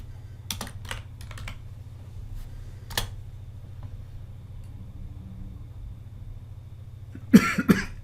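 A person coughs a few times, sharp bursts near the start and a heavier fit at the end, over steady computer keyboard typing and a low hum.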